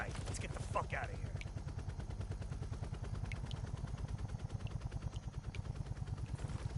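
Heavy, sustained automatic gunfire in the Call of Duty Cold War video game, a dense rapid rattle running the whole time with a deep rumble beneath it, fairly loud and continuous.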